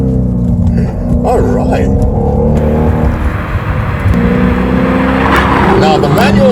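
A 2012 Hyundai Genesis R Spec sedan drops a gear, its engine note rising in a blip and then settling into a loud, close rumble from inside the cabin, with a voice speaking briefly.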